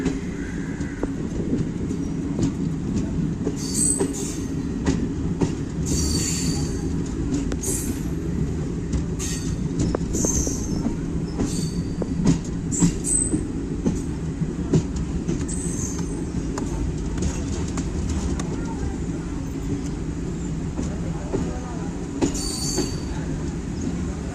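The Tiruchendur Express passenger train rolls steadily along the tracks with a constant rumble, rattling carriages and intermittent high metallic wheel squeals.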